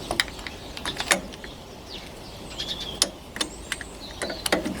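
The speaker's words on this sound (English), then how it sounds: "Feel the bolt is coming undone in the back." A bolt being loosened on the starter motor of a Massey Ferguson 135 tractor gives a series of sharp metallic clicks and ratchet-like ticks, irregularly spaced and close, with faint creaks between them and no voices.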